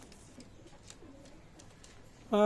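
Pakistani Teddy pigeons coo softly, low and faint murmuring calls in the background, with a louder sound cutting in right at the end.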